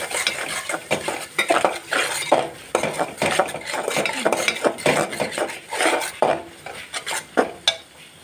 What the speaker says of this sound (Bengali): এই যে দেখতেছেন পেঁয়াজ আর রসুন হলুদ ভালো করে কষিয়ে নিলাম।